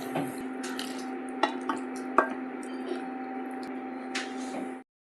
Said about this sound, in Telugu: ఇందాక మ్యారినేట్ చేసుకున్న చికెన్ని యాడ్ చేసుకోండి. అలా అంతా చికెన్కి పట్టేలాగా కలుపుకోవాలి